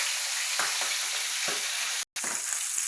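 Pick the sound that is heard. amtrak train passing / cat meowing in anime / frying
frying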